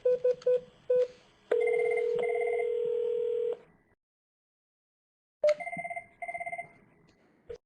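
Telephone ringback on a CUCM voice system: short dialing tone bursts, then a steady two-tone ring pattern that stops, silence, and the ringing cadence resumes in repeated pulses.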